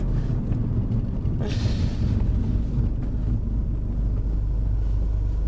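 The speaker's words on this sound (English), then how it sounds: "That's supercharged noise though." Continuous low engine rumble from inside a moving R53 Mini Cooper S, with a whining, droning supercharger tone and a brief rise in hiss partway through.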